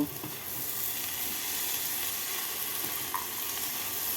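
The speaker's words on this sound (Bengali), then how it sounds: "কাজু আর কিশমিশটাকে মিশিয়ে নেব" Fried cashews and raisins being stirred into Oriya khichdi in a pan, a soft continuous sizzle with faint scraping stirs, steady and close, no voices.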